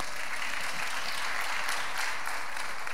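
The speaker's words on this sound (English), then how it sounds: "Now we clap" A church congregation applauding during a Sunday service, a dense, steady clapping from many hands that carries on without a break for the whole stretch.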